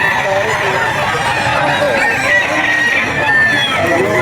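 Chickens and roosters at a busy pet market in Bocaue, with close, loud, overlapping crowing and clucking that continues throughout.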